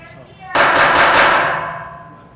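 A wooden gavel banged hard several times in quick succession at a public meeting, loud close strikes after a moment of quiet murmur, ringing out for about a second.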